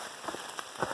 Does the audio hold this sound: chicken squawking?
no